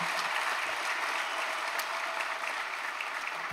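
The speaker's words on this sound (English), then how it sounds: "Clap for yourself for that one." Dense, sustained applause from a large crowd of UT Austin Class of 2022 graduates at a commencement ceremony, steady and loud throughout with no break.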